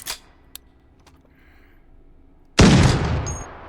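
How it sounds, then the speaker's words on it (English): A single loud .50 BMG blast from a GM Lynx anti-materiel rifle in a game, a sudden heavy boom after quiet clicks and handling noises, with a long rolling tail. "Next we have the GM Lynx, also firing a 50 BMG."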